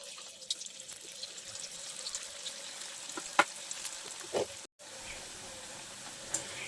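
Cauliflower pakoras frying in hot oil, a steady low sizzle and bubbling running throughout with a few faint clinks and stirs, no voices.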